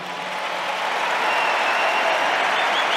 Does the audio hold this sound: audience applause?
yes